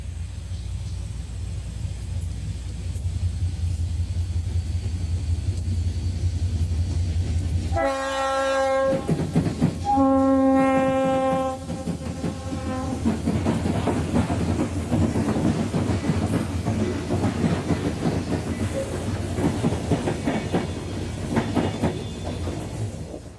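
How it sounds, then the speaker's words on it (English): A Conrail local freight train rumbles across railroad diamonds on its way back to the yard, its horn blaring in two strong blasts in the middle before the heavy rolling clatter of cars carries on loud and close. "a local freight returning to the yard comes across the diamonds"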